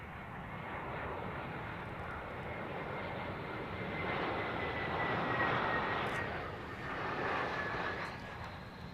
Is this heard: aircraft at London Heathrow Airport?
yes